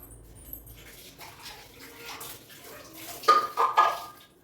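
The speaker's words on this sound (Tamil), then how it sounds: "இப்போ இந்த மிக்சி ஜாரி வாஷ் பண்ணி ஊற்றிக்கலாம்" Water splashes and swishes inside a mixer jar, with light clinks as it is rinsed, growing louder toward the end.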